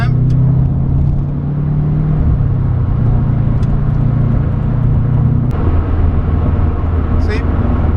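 A Subaru WRX STI with an aftermarket catback exhaust accelerates hard up a highway on-ramp. A loud, steady low drone rises through the gears, with a brief shift break midway, heard from inside the car.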